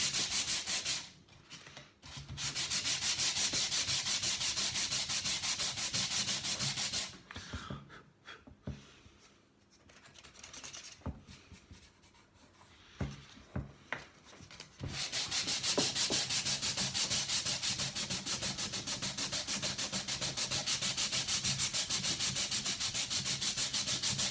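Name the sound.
sanding down outer wood of shelves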